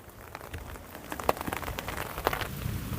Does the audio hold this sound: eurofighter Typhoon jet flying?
no